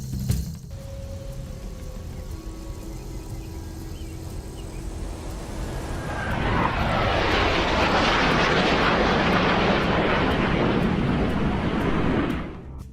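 Jet aircraft roar builds to a loud, broadband rush of passing fighter jets, swelling at mid-clip and sustained for several seconds before cutting off, with no voices.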